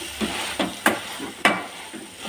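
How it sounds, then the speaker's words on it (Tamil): Ripe banana sautéed in a pan is mashed for pala pazham appam, giving soft squelching presses and a few sharper scraping knocks of the utensil against the pan, close and irregular. "மாவுக்கு ட்ரான்ஸ்ஃபர் பண்ணன முன்னாடி நல்லா மேஷ் பண்ணி விடலாம்."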